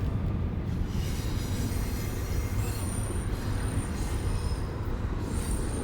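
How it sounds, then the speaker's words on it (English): A train rolls past near an old Arizona prison, a loud, steady rumble with high wheel squeals ringing over it throughout, close and continuous with no voices. "You can hear the trains going by too."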